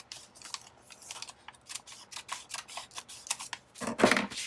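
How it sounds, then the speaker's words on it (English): Scissors snip through a journal page in a series of close, crisp cuts, rhythmic and sharp, with a louder final snip near the end. "So let's just cut this."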